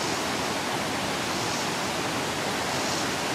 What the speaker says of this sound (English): You're going to hear some water